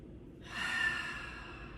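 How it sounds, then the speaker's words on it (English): A single slow, deep breath during a yoga session for hips and legs, a soft airy exhale that swells and fades, close and alone with no talk. "2 more deep breaths here"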